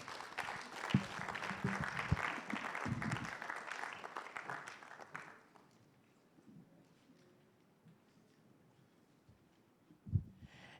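Audience applause at a Ghana Statistical Service governance report release, a round of moderate clapping for about five seconds that fades into a quiet room with a brief bump near the end.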